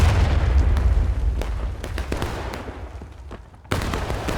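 Rifle volleys from a firing line in the War of Rights game, a dense run of sharp booming shots over a steady low rumble, with a fresh loud burst near the end.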